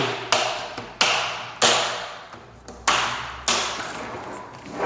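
Hinges on a Leganest rectangular fence are locked into place during assembly, giving five sharp, loud clicks or taps, each followed by a short ringing decay, spaced roughly a second apart with no one talking.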